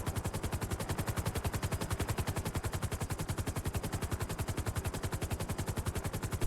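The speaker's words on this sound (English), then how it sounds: "Team 1, shots fired" Rapid, sustained automatic gunfire hammers in an unbroken rhythmic stream during a police warrant operation in a video game, loud and continuous throughout.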